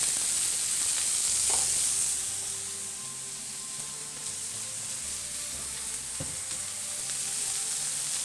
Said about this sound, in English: we'll start with our mushrooms and our peppers. And we'll let them sear for about a minute.